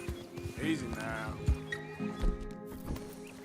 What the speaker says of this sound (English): Is that a horse and rider?